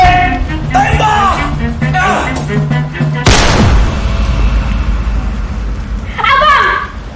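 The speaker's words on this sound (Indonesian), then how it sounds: "Kopral, tembak!" Gunfire goes off in a stage performance: one loud, sharp report rings out amid shouted dialogue, with yelling voices before and after the shot.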